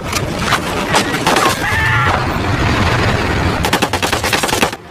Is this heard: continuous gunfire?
yes